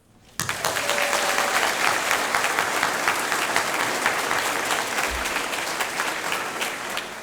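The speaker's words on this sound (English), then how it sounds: "Let's give a round of applause for all our wonderful student cubs" Sustained audience applause at an elementary school ribbon-cutting ceremony, starting abruptly and holding steady as a dense wash of clapping from a crowd celebrating the student cubs.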